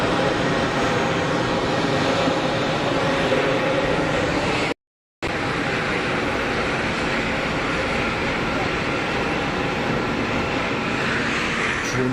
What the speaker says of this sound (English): Dreamliner on the pushback.